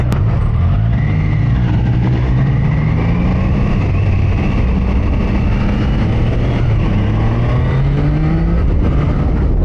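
A Triumph Daytona 660 motorcycle pulls hard in second gear, its engine note rising steadily in a loud continuous climb heard close up from the rider's position, with heavy wind rush throughout.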